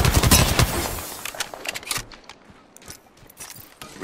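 Apex Legends gunfire opens with a loud, rapid automatic burst, followed by scattered sharper shots and mechanical clicks that trail off over a few seconds.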